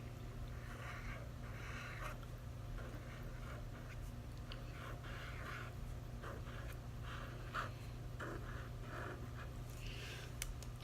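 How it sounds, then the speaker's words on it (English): Pen writing a name on paper for a foil craft project, faint intermittent scratchy strokes in short bursts over a steady low machine hum. "So I'm going to write out my niece's name."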